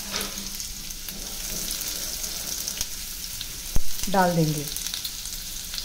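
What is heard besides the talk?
chopped onions frying in hot oil with bay leaf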